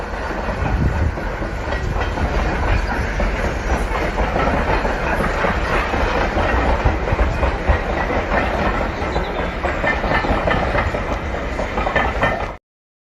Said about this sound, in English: I think we're getting the old train.